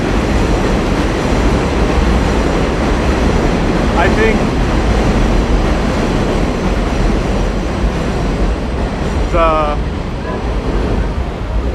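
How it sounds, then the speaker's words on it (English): A subway train rumbles past on Roosevelt Avenue in Jackson Heights, Queens, a loud continuous roar of wheels on rails with brief metallic squeals, close and dominating throughout. "I think I just might be saved by the annoying train sounds"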